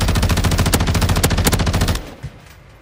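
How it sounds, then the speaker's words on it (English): Rapid automatic gunfire in Call of Duty Warzone 2, loud and close, a dense burst of shots lasting about two seconds before cutting off, with one fainter shot after. "Literally one shot"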